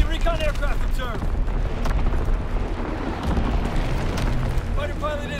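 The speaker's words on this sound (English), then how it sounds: "Firing division artillery." Division artillery pounds the battlefield in Call of Duty: WWII, a continuous rumble of heavy booms and blasts layered with gunfire, while radio-style voice callouts cut in over the barrage.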